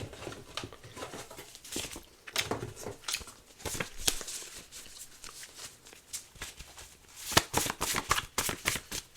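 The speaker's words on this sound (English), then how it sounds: "Let's pull some of my cards." Tarot cards being shuffled close up, a run of soft riffling flutters and taps in irregular bursts, fairly quiet and with no voices.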